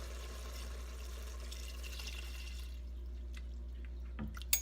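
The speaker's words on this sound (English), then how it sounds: "I'm not gonna add a whole lot of bone broth. Just a tad." A small splash of bone broth is poured into a goulash pot, a faint liquid rush that fades out, followed by a few quiet drips and a soft knock at the end.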